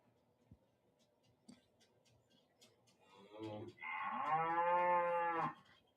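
Cattle mooing in the video game Lord of the Rings Online: a single long, loud, tonal moo swelling in after about three and a half seconds, preceded by faint clicks and quiet game ambience.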